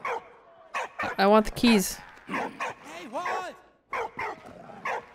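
A dog in the World War I video game Valiant Hearts barks repeatedly in bursts of yips and whimpering bow-wows, with someone talking over and between the barks.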